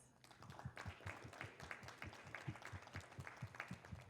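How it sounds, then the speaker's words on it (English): Audience applause closing a high school alumni career panel, a modest crowd clapping with clearly separate, rhythmic claps, fairly quiet and distant, continuing steadily for several seconds. "One last round of applause"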